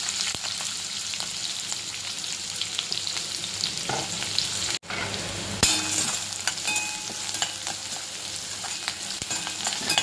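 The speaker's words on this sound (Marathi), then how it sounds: "तेल तापलं की त्याच्यामध्ये मोहरी टाकून घ्यायची आहे, जिरे, कांदा आणि कढीपत्ता" Mustard seeds, cumin, onion and curry leaves fry in hot oil in a pan, with a steady, dense sizzle and occasional stirring scrapes and spatters, close and continuous with a brief break midway.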